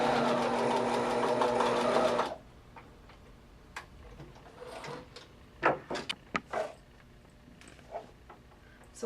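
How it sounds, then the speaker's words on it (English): A sewing machine stitches a seam in knit fabric for a twist headband, running with a steady dense whir for about two seconds, then stopping, followed by scattered clicks and handling taps. "If you're going to use a sewing machine"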